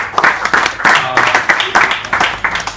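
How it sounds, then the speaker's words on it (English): An audience at a Google I/O Extended developer event in Lagos claps and applauds steadily for a few seconds, with dense, close clapping throughout. "give yourselves a round of applause"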